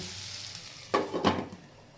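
Potatoes with turmeric frying in a pan, a soft sizzle that flares up in two loud bursts as the pieces are stirred, then settles back down.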